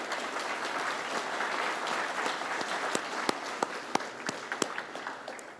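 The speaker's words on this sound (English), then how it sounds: "Let's give these individuals a round of applause for their support of KAMS and AMS students." Audience at a graduation ceremony applauds, a dense wash of clapping from a large crowd that thins toward the end into a few louder, sharper individual claps.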